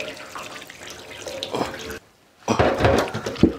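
Running tap water splashes over deer meat being washed during outdoor village cooking; a steady splattering gush that briefly stops, then resumes louder with uneven sloshing.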